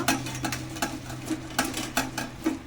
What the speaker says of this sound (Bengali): খুব ভালো করে লবণ হলুদ মাখিয়ে নেব